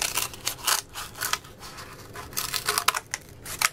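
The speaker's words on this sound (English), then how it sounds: "to cut around each shape that," Scissors snipping through cardboard while cutting around a shape for a Valentine ornament, a close run of short, crisp cuts with a few louder snips and no talking.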